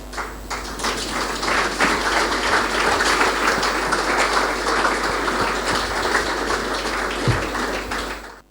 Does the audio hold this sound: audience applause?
yes